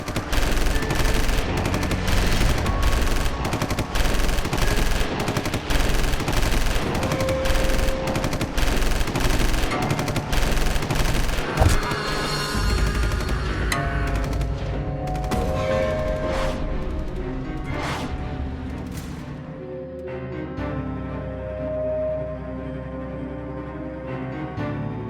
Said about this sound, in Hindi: बहुत बरसाली गोलियां, अब इंडियन आर्मी की बारी है।